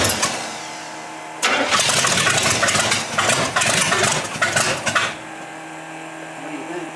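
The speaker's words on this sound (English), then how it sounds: "It's a cold start, man." The engine of a 1927 Studebaker rat rod catches on its first cold start, a loud, rough, close engine noise that runs unevenly for a few seconds before settling to a quieter idle.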